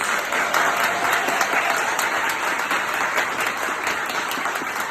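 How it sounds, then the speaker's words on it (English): A dense, sustained round of applause from an audience honouring a performing arts center founder, even and unbroken throughout with no voices standing out. "Everybody, let's just give her a round of applause."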